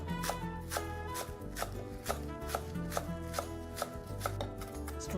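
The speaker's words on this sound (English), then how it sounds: "Now let's do a little chopping. I'm going to start with some chives, about a half a cup." A knife chops about half a cup of fresh chives on a board in quick, even, rhythmic strokes, close and crisp, with no talking.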